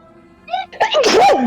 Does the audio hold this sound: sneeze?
yes